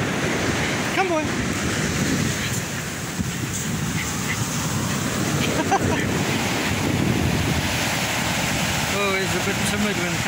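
Sea surf washes steadily onto a beach in continuous wind, a broad rushing roar with a few swells cresting louder, while a voice calls out over it now and then.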